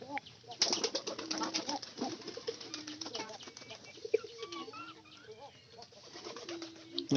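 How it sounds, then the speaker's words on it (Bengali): White pigeon flying down with wings flapping, mixed with pigeon coos and other bird calls nearby, a steady busy backdrop over about seven seconds with a brief sharp accent midway. "এই যে সাদা কবুতর আবার নিচে নামছে"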